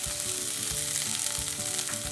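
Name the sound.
onion frying in a pan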